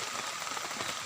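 Rain falls steadily outdoors near rice fields, making a dense, even hiss of drops hitting surfaces with no breaks and no talking.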